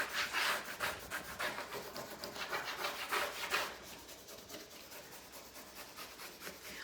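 Rubbing strokes burnish a transfer onto an industrial-style wooden peg board, a dense, close scraping that comes in steady rhythmic passes and then thins to a quieter, sparser rubbing toward the end.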